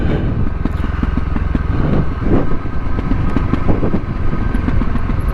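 A Voge 300 Rally motorcycle engine pulls in second gear while riding, a loud, close, throbbing single-cylinder growl with pulsing rhythm and slight rises in revs throughout.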